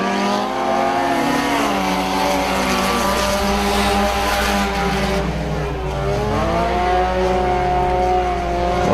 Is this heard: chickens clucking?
no